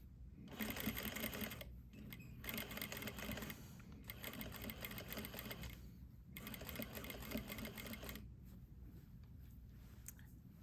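Domestic sewing machine running in steady bursts as it back stitches and then top stitches a garment yoke, the needle's rapid mechanical chatter stopping briefly between runs with short quiet gaps.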